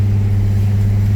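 A Holden Calais with a faulty gearbox that has lost second gear rumbles loudly and close, a short steady low engine drone with no voices.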